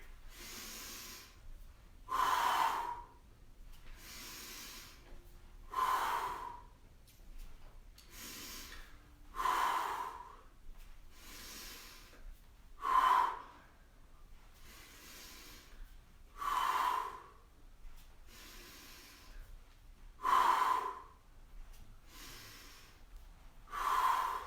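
Heavy exercise breathing during a home workout, a strong gasping exhale repeated about every three and a half seconds, close and loud, with a softer inhale between each one and no talking.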